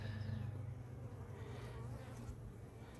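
A dense, steady hum of many honey bees buzzing together close by inside an opened hive box, low and continuous with no voices.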